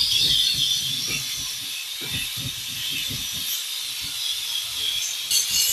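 A Polti Vaporetto SV440 steam mop gives off a steady, loud hiss of steam while low rubbing and scrubbing strokes pulse underneath.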